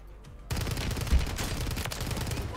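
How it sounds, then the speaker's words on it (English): Dense, rapid gunfire from a Warzone match on Rebirth Island, likely the STG 44, starting abruptly after a quiet moment and continuing as loud overlapping bursts, with one sharper hit near the middle. "Yeah, shots."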